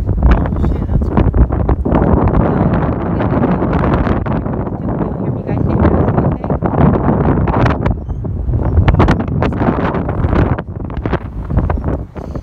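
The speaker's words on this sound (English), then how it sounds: "Sorry for the wind." Heavy wind buffets the microphone with a steady low roar and gusty rumble throughout, while people talk faintly underneath.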